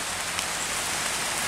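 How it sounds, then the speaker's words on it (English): Rain falls steadily in a backyard garden, a dense, close hiss of drops striking surfaces that holds even and unbroken for the whole short stretch, with no voices. "it's actually raining, so I'm going to have to get back up here out of the rain."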